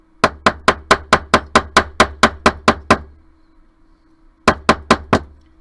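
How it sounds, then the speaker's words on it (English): Chasing hammer, flat face down, flattening a metal piece for a bullseye ring on a bench block: a loud, close run of about a dozen quick even ringing strikes, a pause, then four more blows. "I'm going to use my chasing hammer, the flat side of it, to hammer it flat"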